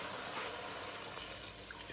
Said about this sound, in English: 500 ml of water.